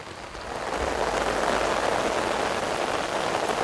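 Heavy rain pours down at an outdoor fishing spot as a steady, dense hiss that swells early and holds loud and constant throughout, with no voices.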